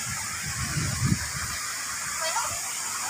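Water rushing over a river dam at Lahong Bulan, Sorsogon, heard as a steady, loud broadband rush that fills the whole stretch, with a faint voice murmuring low underneath.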